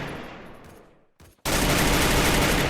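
Gunfire in the Free Fire mobile battle game: a dense, loud burst of rapid shots, then a brief gap and a sustained, harsh roar of continuous firing that fills the rest of the moment.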